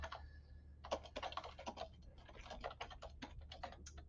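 Someone types on a computer keyboard while writing notes in a Python Colab notebook, producing a quick, uneven run of close, soft key clicks in a quiet room.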